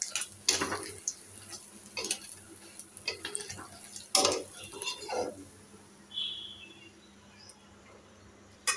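Two eggs frying in a pan in a home kitchen, with intermittent clinks and scrapes of a spatula against the pan over a quiet background sizzle, the sharper knocks coming in scattered bursts.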